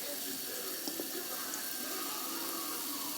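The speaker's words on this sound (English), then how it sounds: "Pour in the fragrance oil." Fragrance oil poured into melted beeswax heated to about 200 degrees, a steady soft liquid trickle over a continuous hiss, quiet and close.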